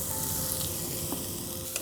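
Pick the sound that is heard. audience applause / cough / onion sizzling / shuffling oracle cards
onion sizzling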